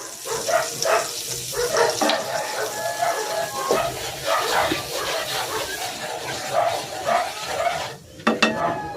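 Butter and flour cook together in a pan for a sauce, with steady sizzling and repeated stirring scrapes, and a couple of sharper knocks near the end.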